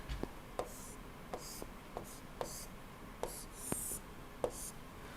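A pen scratches out a pressure-crank angle diagram for an engine lecture, short quiet strokes and taps in an irregular rhythm, close and alone, with faint breathy sounds between strokes.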